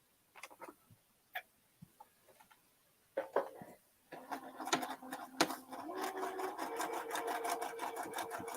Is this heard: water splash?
no